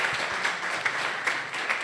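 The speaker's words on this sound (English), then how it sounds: "A round of applause for the beginning and the end." An audience at a global summit on innovation financing gives a round of applause, steady dense clapping from a crowd of listeners in a conference hall, continuous and moderately loud with no voices over it.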